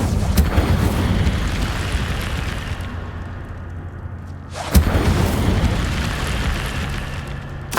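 Incendio fire spell cast in Hogwarts Legacy: a heavy booming burst of flame, a sustained roaring rumble that fades, then a second sharp blast and renewed roar.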